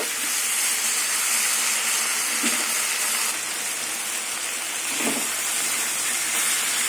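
Spinach vegetable curry fries under a lid in a pan, giving a loud, steady broadband sizzle and hiss that continues evenly throughout without pause.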